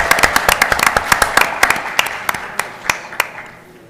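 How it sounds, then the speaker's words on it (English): Scattered applause at a school board meeting, a small group clapping in distinct sharp claps that thin out and fade over a few seconds, fairly close. "Yes, please give them a round of applause."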